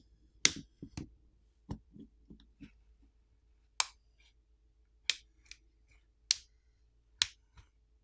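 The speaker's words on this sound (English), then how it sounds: "place a plastic pry tool in between the back housing and the frame of the screen, and then we need to run it along the edges to pop off the catches" A plastic pry tool working around the plastic back housing of an iQOO Z6 Pro / Vivo T1 Pro 5G phone, making a series of sharp, close snapping clicks as each catch pops free, separated by quieter scraping ticks.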